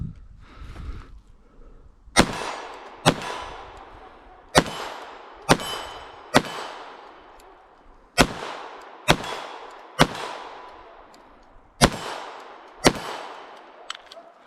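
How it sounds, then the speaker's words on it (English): A compensated rimfire pistol fires at an outdoor plinking session: about ten sharp, loud shots in an uneven rhythm, each crack ringing out with a short echo tail before the next. "let's put a couple more mags through it."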